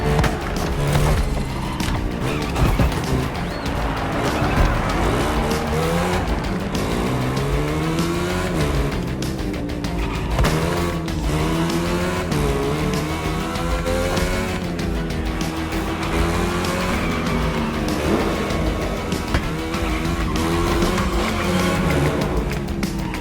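Racing cars roar continuously with squealing tires and revving engines in The Crew Motorfest, played on Xbox Series X during a chase. The sound is dense and loud throughout, with no talking.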